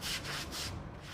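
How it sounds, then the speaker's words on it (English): Sweeping inside a flood-damaged house, with repeated broad brushing strokes rasping across a wet floor in a steady back-and-forth rhythm, close and fairly loud. "But for the sound of sweeping"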